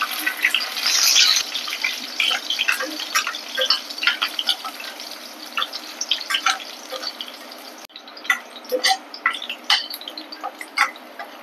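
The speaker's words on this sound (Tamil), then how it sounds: "இப்போ வந்து இஞ்சும் பூண்டும் அது மாதிரி பொரிச்சு எடுத்துக்கணும்" Ginger and garlic fry in hot oil for a paneer gravy, giving off a close, steady crackle of sharp pops and sputters that thins briefly before picking up again, with no voices.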